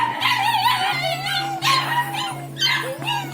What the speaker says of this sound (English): This is doggy. Little puppies inside cages.